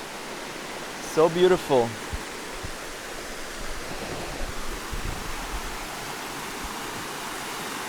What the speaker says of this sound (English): And we are near the river now.